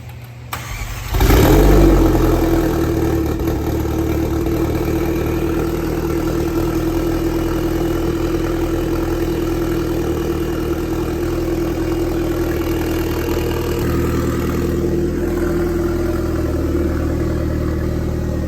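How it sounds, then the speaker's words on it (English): A rebuilt McLaren's new engine cranks and catches on its first cold start, then settles into a steady, loud idle that runs continuously for the rest of the clip. "This is going to be the very first cold start with the new engine and everything done."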